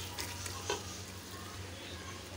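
Chopped spinach goes into a pot of frying chicken for palak chicken and is stirred, giving a soft, steady sizzle with faint scraping, quiet and close.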